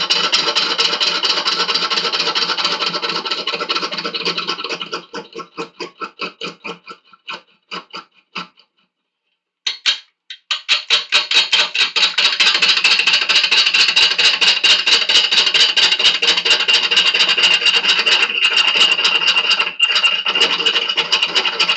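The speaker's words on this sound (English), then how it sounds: "Holding on to this tool and pulling the wood away at the moment. Right, so I've got the lathe there." Wood lathe turning a 1/2 inch Excelsior wooden dowel, a loud continuous rasping, scraping cut that stops briefly into scattered clicks and then resumes steadily, with no talk.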